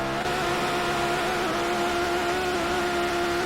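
A car engine in the racing video game Shift 2 Unleashed, an Audi drag car with a swapped engine, holds a loud, steady high-revving drone throughout, with a bright, buzzy tone and no break.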